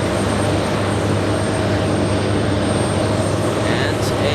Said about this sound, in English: And a JetBlue right now. About to lift off, already lifting off.